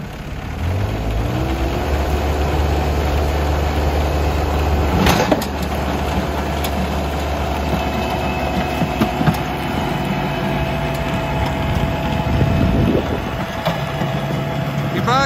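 Yanmar tractor engine running steadily while driving a rotary tiller and seeder, a loud continuous low rumble with rattling implement noise and a sharp clunk partway through, heard close up.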